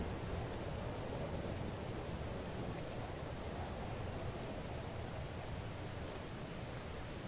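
Steady rain pours down outside during a fireside chat, a dense continuous wash of noise that stays even and fairly loud throughout with no voices.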